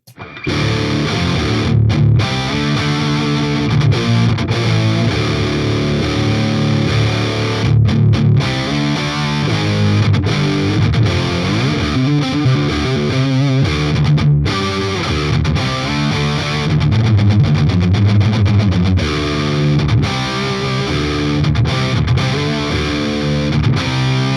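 Heavily distorted Enya Nova Go Sonic electric guitar on its Alnico 5 bridge pickup, played through an amp, loud and continuous rock riffing with chugging chords and short breaks.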